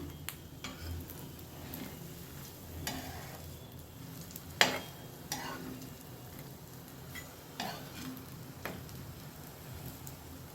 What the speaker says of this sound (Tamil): இதே மாதிரி எல்லாத்தையும் திருப்பி திருப்பி விட்டு ரெண்டு பக்கமும் நல்லா கிறிஸ்பாக வர அளவுக்கு நம்ம வந்து இதை நல்லா வேக வச்சு எடுத்துக்கலாம்